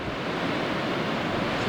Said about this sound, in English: This should be LeConte Falls. See, there's some water being kicked up on it too.